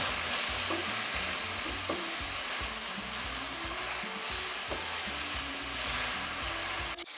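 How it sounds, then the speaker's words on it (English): Mushrooms fry loudly in a pot for a vegan butterbean stew, giving a dense, continuous close-up sizzle with scraping stirs and occasional utensil knocks, and no speech. "the goal is to cook off the water and then what starts to happen is they start to char and get crispy and slightly caramelized little edges"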